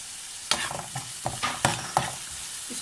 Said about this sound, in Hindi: चाट बना रही हूँ उसके लिए मैंने प्याज फ्राई कर रही हूँ।